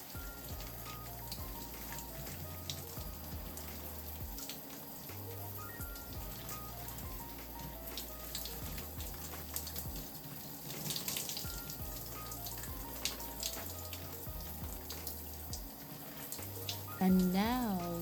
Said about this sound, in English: And I'm rinsing all of that out.